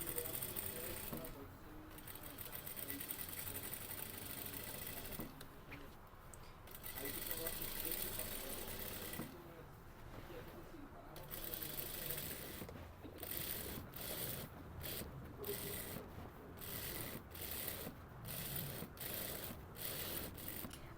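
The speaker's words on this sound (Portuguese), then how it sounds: "vou fazer uma costura com um pezinho de máquina" A domestic sewing machine stitches fabric with a standard presser foot and no backstitching, running in steady mechanical bursts with brief pauses, close and fairly quiet throughout.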